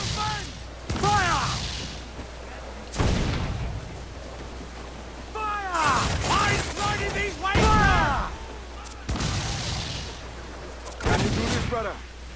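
Ship cannons firing in the pirate game Assassin's Creed IV: Black Flag, several heavy booming blasts spaced a few seconds apart, with loud shouted voices between and over the shots.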